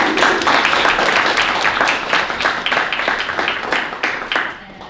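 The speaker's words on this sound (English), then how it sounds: "If we could give Dilia a big round of applause" A lecture audience at a civic engagement presentation at CSU, Chico applauds the speaker, steady loud crowd clapping from start to finish that tapers slightly toward the end.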